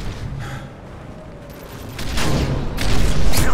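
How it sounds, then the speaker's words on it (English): Predator missile strikes in the multiplayer shooter Call of Duty Modern Warfare 3 on a village map, heavy booming blasts building in loudness over a few seconds amid scattered gunfire. "Friendly Predator missile inbound."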